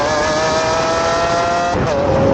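A 2012 Lamborghini Aventador driving fast, a loud sustained engine roar with a rising whine that drops briefly near the end as the car shifts, heard from close by with no talk.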